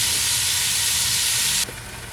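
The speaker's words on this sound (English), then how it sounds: "I'm searing the second set of beef that we had" Beef searing in hot oil hisses loudly and steadily close by, then the sizzle suddenly drops to a quieter, softer level near the end, with no voices.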